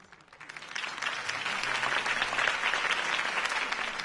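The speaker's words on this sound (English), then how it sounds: "If only Mr. Wayne, my campaign's largest backer, could have heard that applause" A crowd applauds after a city campaign speech, clapping building quickly from a quiet start into a dense, sustained ovation.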